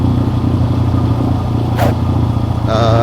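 Close idle of a TVS MAX 125 custom scrambler motorcycle, a steady low thumping putter with a brief clatter or rustle near the middle and a faint higher whine toward the end.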